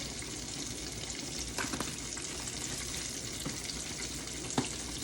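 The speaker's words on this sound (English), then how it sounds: "And so we're gonna bring these up to a little simmer." Tomatoes, corn and okra simmering in pork chop grease give a steady, close hiss of bubbling and sizzling, with a couple of soft utensil knocks and no talking.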